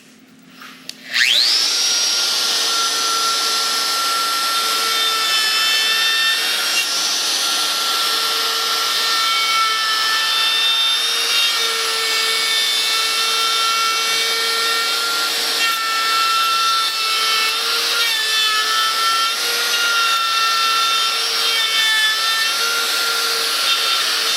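Router cutting a door hinge mortise in wood with a climb cut, a loud steady high-pitched whine that spins up sharply and holds nearly unbroken, close and alone.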